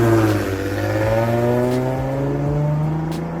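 A 2007 Toyota Mark X GRX120 with a naturally aspirated 4GR-FSE V6 hums steadily close by, its tone rising and falling slightly in a smooth, even drone.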